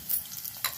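Mustard seeds frying in hot oil for a Telugu drumstick-leaf spice powder, a brief quiet sizzle with a couple of small crisp pops.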